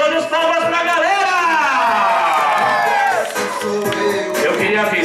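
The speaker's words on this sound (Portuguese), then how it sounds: "palmas para a galera!" Guests at a silver wedding anniversary party cheer loudly, with whoops, shouts and high excited voices rising over clapping in one continuous, close burst of crowd noise.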